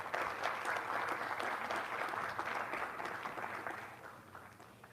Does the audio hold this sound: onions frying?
no